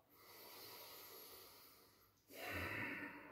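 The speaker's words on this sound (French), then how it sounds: "Le deep breathing." A person demonstrates deep yoga-style breathing: a slow, soft airy inhale, a brief pause, then a stronger rushing exhale, close and quiet with no talking.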